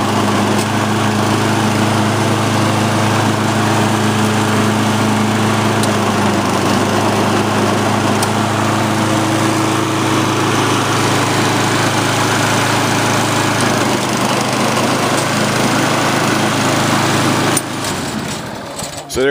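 A Lawn-Boy AWD mower engine runs steadily and loudly with all four wheels turning, its buzzing drone holding for about seventeen seconds before cutting out abruptly near the end.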